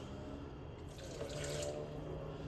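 A cup of water streams steadily from a tap or cup into a blender holding avocado tomatillo salsa ingredients, a continuous close splashing pour with no voices.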